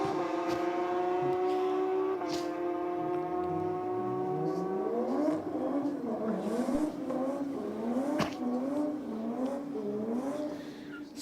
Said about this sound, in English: Solid burnout here from the Falcon